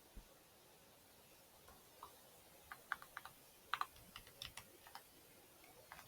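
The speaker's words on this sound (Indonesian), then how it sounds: "Sekarang kita ketik perintahnya." Light typing on a computer keyboard while entering code, faint scattered key clicks in short irregular runs over a steady low background hiss.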